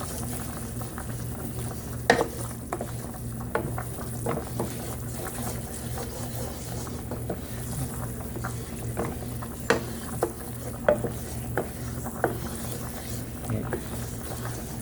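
Country gravy bubbles in a non-stick pan while a utensil scrapes and taps the bottom in irregular, close strokes, under a person's talking.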